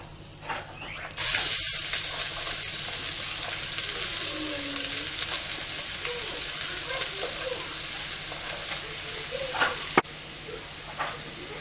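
Garlic frying in a pan for homemade Filipino palabok, a steady loud sizzle that starts abruptly and hisses on evenly with no talk.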